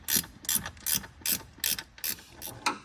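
A spanner ratchets on a power steering pump bolt in an engine bay, clicking in about seven regular, close bursts of sharp metallic ticks.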